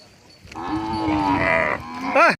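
Cattle in a Maldhari herders' village settlement in Gujarat low nearby: one long, drawn-out moo followed by a shorter, rising call at the end, loud and clear with no talking.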